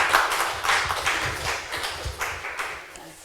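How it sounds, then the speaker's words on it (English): Another burst of conference audience applause, moderate clapping from a seated crowd that tapers off softly over a few seconds. "Another round of applause, please."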